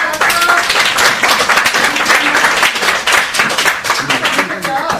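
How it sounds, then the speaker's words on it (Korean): An audience at a student exchange seminar claps to welcome a mother and son to the front, a loud, dense burst of applause over lively chatter and voices. "박수 환영합니다"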